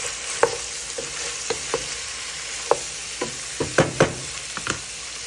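Pork frying in a pan with vinegar just added, a steady sizzle broken by sharp irregular clatters of stirring, close and fairly quiet.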